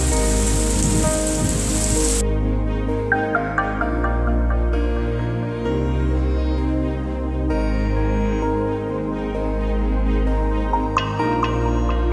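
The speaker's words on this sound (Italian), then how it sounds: "E piove anche di traverso." Heavy rain falls steadily through a wood, driven sideways by the wind, a dense continuous wash with low rumbling underneath; no one speaks.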